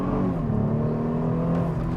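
A Mercedes CLK 350 AMG with a 3.5-litre engine revs up steadily in first gear, a continuous droning roar heard from inside or close by, with no voices.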